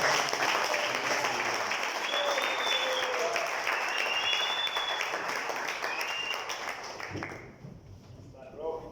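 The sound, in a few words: congregation applause in church service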